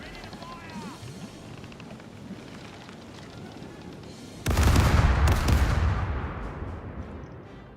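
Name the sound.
ship cannon broadside fire in video game Caribbean Legend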